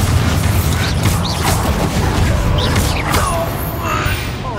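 A Bombarda explosion spell in Hogwarts Legacy, a loud, dense blast of crashing, rumbling debris and mechanical clatter that stays heavy for several seconds.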